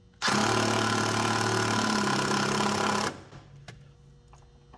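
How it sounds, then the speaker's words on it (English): A 1/4 inch impact wrench runs a bolt into a 1973 Challenger's rear suspension during a rebuild, one loud continuous burst of about three seconds that then stops, leaving quiet workshop noise. "I'm going to use a 1/4 inch impact to get this thing run in"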